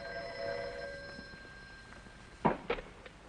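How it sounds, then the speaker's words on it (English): An old-fashioned telephone bell rings in two short bursts near the end, after a quiet stretch with a faint steady hum, in a 1950s television drama. "That was Ratka on the phone?"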